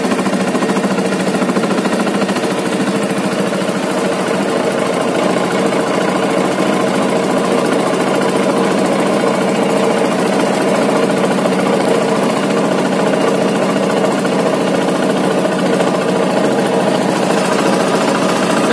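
A boat engine drones loudly and steadily on a river crossing, a continuous mid-pitched rumble that never lets up, with no talk over it.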